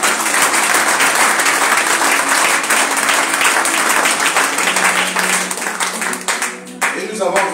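Church congregation applauding and acclaiming together in a dense, sustained burst of clapping that fills most of the clip, then thins and fades near the end.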